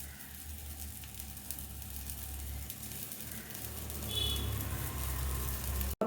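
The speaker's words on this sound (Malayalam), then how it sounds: "നല്ലതുപോലെ തിളച്ച് കഴിയുമ്പോൾ നമുക്ക് ഈ ഫിഷ് ഇപ്പം മസാല കൂട്ടി വെച്ചേക്കുന്നത് തിളയ്ക്കട്ടെ" Fish masala curry with tamarind and salt bubbling in a pan, a steady close sizzle and simmering hiss that grows slightly louder toward the end, with no talking.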